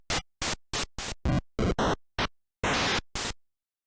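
NES noise channel played from Famitracker, a string of about ten short bursts of harsh digital hiss and buzz that vary in pitch and texture, separated by brief silences, loud and alone.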